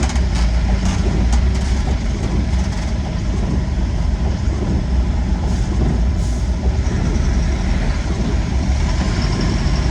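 A truck engine labours slowly through a sharp turn on a steep, rough ghat road, a loud, steady low rumble that continues without a break.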